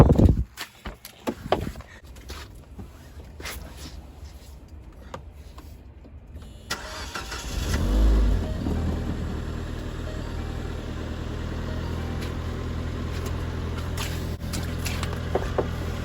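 A Ford Fiesta engine cranks and catches, then settles into a steady idle that runs on, preceded by a few clicks and knocks.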